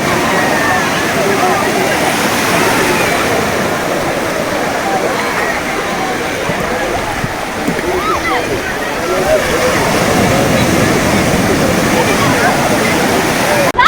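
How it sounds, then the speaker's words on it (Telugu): Sea waves of the Bay of Bengal roll in at Perupalem Beach in West Godavari, a loud, constant roaring wash of surf with splashing, and a person speaks over it. "ఈ సముద్రం ఏంటంటే ఇది బంగాళాఖాతం అంటారు దీన్ని."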